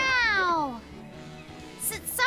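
A character's voice in the game Tales of Berseria imitates a cat, giving a drawn-out falling meow, then a brief pause and a shorter, higher pair of mewing cries, all close and clear.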